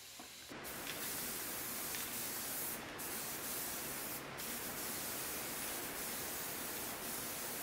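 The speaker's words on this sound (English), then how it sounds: "I'm basically just using vinyl sealer sprayed out of a" Vinyl sealer primer sprays onto furniture from a sprayer, a continuous loud hissing spray starting after a brief pause and running steadily with a few short breaks.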